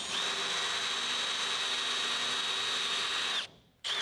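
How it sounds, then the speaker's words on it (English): A drill steps a pilot hole up to 1/4 inch in a firewall bracket for a 1960-66 GMC/C10 truck, a steady close high whine that cuts out briefly near the end, then restarts. "I want to step this one, this pilot bit, up to a 1/4 inch hole, and that's it, no bigger."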